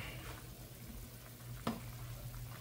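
Spanish mackerel sinigang with tamarind and taro simmering in a pot, a faint steady bubbling with one brief clink of a lid near the end.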